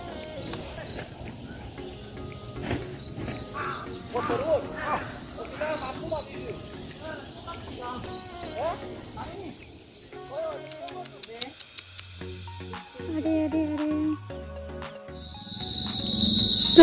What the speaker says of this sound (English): I hope you can hear the crickets.